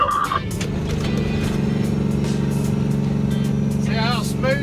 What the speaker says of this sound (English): Here comes that Freightliner engine